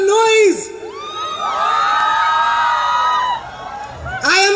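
A crowd at a university cultural night cheers, whoops and shouts loudly in two strong bursts at the start and end, with sustained high-pitched yelling carrying through the middle.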